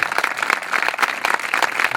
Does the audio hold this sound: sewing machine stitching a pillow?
no